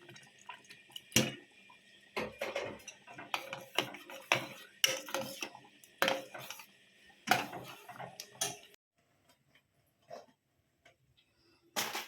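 Milk poured into thickened kheer in a kitchen pot, heard as a run of close clinks, taps and stirring knocks of utensil against metal, then a quieter stretch with a few faint ticks near the end.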